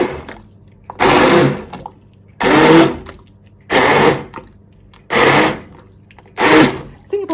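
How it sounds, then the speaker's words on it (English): Carrot soup blitzed with a blender in a shallow stock pan, five loud bursts of whirring about a second long each, separated by short quiet gaps, close up and with no speech over it. "I'm waiting for the carrots to just be a little bit softer. Oh no, I think they're there. They're there. I'll give it a whiz."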